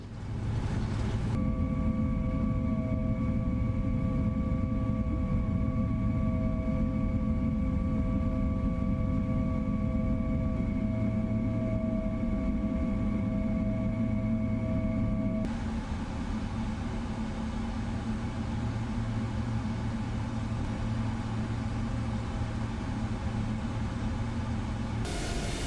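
Steady jet engine whine and hum of a PMDG 777 airliner taxiing in Microsoft Flight Simulator, with sustained tonal drones over broadband rumble, shifting slightly midway, continuous and unbroken.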